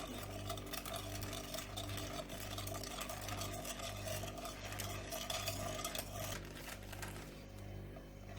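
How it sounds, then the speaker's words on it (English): A spoon stirs a creamy milk mixture in a pot with continuous, rhythmic scraping and soft clinks against the metal, close and fairly quiet under a steady low hum. "And we continue to stir."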